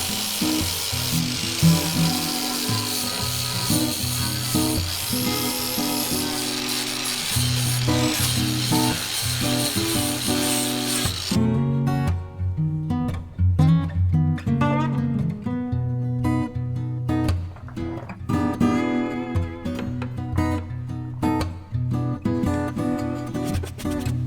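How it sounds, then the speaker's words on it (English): Angle grinder grinding down rough weld high points on a patched rotten floor section of a VW T4 van, a loud continuous harsh whine with shifting pitch as the disc bites and lifts, running steadily throughout. "there are some high points from my ugly welding, so I'm going to have to grind these down."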